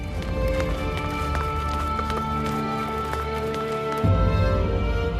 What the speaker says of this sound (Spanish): Son sonidos de hombres a caballo, dentro del palacio,